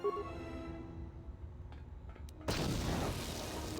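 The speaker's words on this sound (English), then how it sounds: "Get frag grenaded." A frag grenade explodes in Knights of the Old Republic 2, a sudden loud, wide burst that follows quiet game ambience and holds as a rumbling roar until the end.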